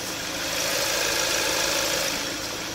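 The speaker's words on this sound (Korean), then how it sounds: "굉장히 정숙하고 규칙적인 엔진 사운드 들려주고 있고요" A Kia K7 sedan engine idles steadily and smoothly with the hood open, a close, even mechanical hum with a regular low rumble and no talking.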